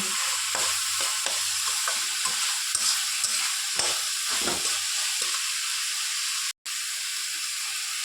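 Kakrol stuffing with garlic and green chilli being stirred in a hot pan: a constant close sizzle and hiss of frying, with soft scraping strokes of the spoon at irregular intervals and no talking.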